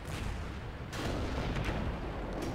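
Dense, rumbling video game battle noise with heavy booming artillery blasts from a modded gun sound set, rolling continuously, loud and sustained with no talking.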